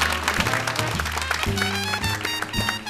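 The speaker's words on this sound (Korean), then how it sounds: "박수로 환영해 주시기 바랍니다." Studio audience applause at a KBS variety awards ceremony, a broad wash of clapping mixed with loud, sustained stage music chords that shift midway, continuous for a few seconds.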